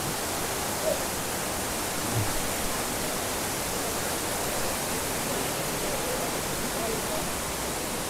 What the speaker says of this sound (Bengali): আর এরকম উপর থেকে, পাহাড়ের উপর থেকে জল পড়ছে।